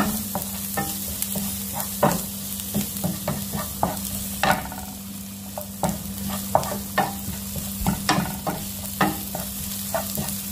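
Garlic frying in butter in a pan, a steady bright sizzle with frequent clinks and scrapes of a spatula stirring, close and continuous throughout.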